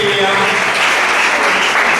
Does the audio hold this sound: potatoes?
no